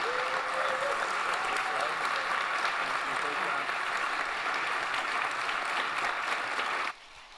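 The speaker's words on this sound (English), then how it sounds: "Let's give them a round of applause." Audience at a 1 Million Cups Fargo gathering applauding, a dense sustained clapping from a room crowd that runs steadily for about seven seconds and then cuts off abruptly.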